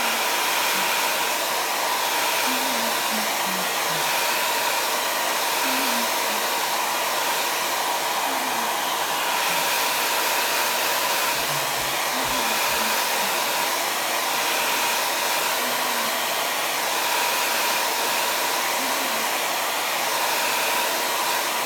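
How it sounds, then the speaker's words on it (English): A hair dryer blows hot air to dry chalk paste stenciled onto a T-shirt, a loud, constant rushing roar that holds steady for over twenty seconds with a few faint clicks beneath. "Little noise with my handy dandy hair blower just to get this dry before I put the final layer on."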